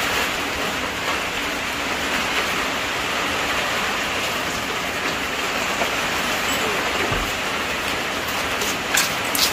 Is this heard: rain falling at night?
yes